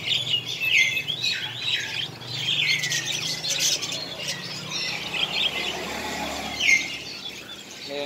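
Many caged birds in a pet bird shop in Tân An, Vietnam, including áo già birds, chirp, tweet and squawk together in a dense, continuous chatter with no talking.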